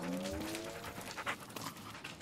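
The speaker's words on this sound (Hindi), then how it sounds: "कोई कुत्ता आ गया इधर" A dog pants softly nearby in a quiet indoor space, a quick run of rhythmic breaths throughout, faint and close.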